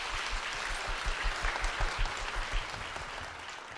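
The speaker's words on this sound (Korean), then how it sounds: "따님 김주희 양 박수로 모시겠습니다" A crowd claps steadily indoors at a church service, a dense patter of hands that holds at an even level for a few seconds.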